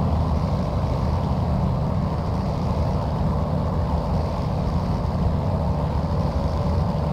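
iniBuilds P-40F Warhawk propeller engine in flight at 30 inches of manifold pressure and 2500 RPM, a loud, constant droning roar with no breaks.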